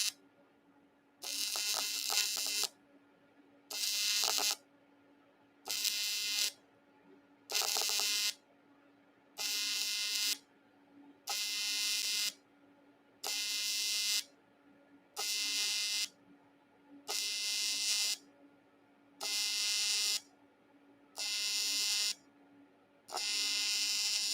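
Cast aluminum welded with 4043, 5356 or 5554 filler, a faint electric buzzing arc in about a dozen evenly spaced bursts of roughly a second each, separated by short silences.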